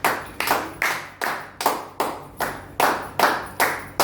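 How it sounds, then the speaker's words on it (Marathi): Loud, sharp hand clapping in a steady rhythm, about ten single claps spaced roughly half a second apart, close and prominent with no talking. "जोरजोरात टाळ्या वाजवा."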